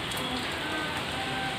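Heavy rain pours steadily through a dark night during a power cut, a dense, continuous hiss of drops on surfaces with no pauses, loud and close, with no voices over it.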